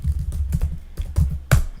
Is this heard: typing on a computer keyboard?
yes